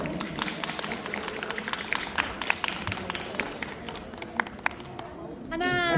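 Audience applause fills a sport stacking awards ceremony hall, steady dense clapping from a crowd with a few sharper claps standing out, and a voice comes in near the end.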